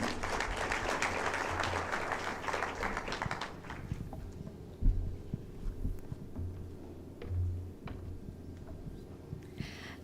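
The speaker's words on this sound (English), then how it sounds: "let's give the chairman another warm round of applause" A conference audience at a foundation launch applauds the chairman, dense clapping that fades out after a few seconds into a quieter room with scattered taps and low rumbles.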